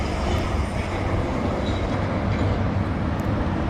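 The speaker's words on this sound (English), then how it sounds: "Nice lengthy train" A long freight train hauled by four locomotives rolls steadily past at close range, a continuous loud rumble of wheels and railcars holding even throughout.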